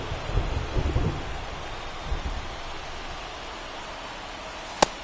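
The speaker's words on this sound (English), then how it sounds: "This rain is not letting up." Steady rain hisses across a baseball video game scene, with low rumbling in the first seconds and a single sharp crack near the end.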